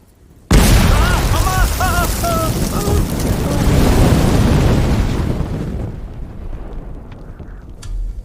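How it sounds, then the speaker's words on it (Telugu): A bomb explosion in a movie scene, one sudden loud boom that bursts in abruptly and rumbles on for several seconds before slowly fading, with a brief tonal call sounding under the blast. "ఇప్పుడు ఇక్కడ బాంబు పేలింది కదా"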